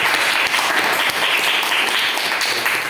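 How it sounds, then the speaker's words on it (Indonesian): Classroom applause from students during a science lesson on global warming: dense, steady clapping from a group that lasts the full three seconds, with no voices over it. "Tepuk tangan dulu untuk Najwa"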